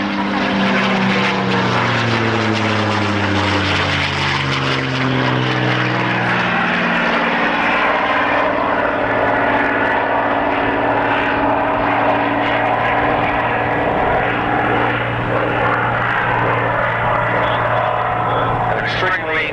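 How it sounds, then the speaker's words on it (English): A P-51 Mustang propeller aircraft roars past at an airshow at Matamata Airfield, its engine drone sweeping in pitch as it approaches and recedes, loud and continuous throughout. "An extremely pleasant sound, a beautiful looking aeroplane"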